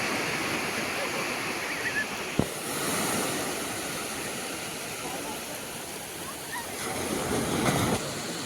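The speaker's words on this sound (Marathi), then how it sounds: "मोठी लाट आली मोठी लाट आली" A continuous roar of surf fills the scene as waves wash in on a beach, swelling louder near the end, with people faintly talking nearby.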